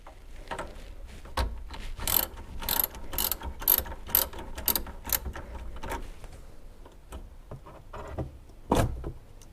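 Wrench ratcheting while loosening car battery terminals on a Mitsubishi Evo X, a series of sharp clicking ratchet bursts in quick runs, with a few scattered clicks and thumps between, close and loud.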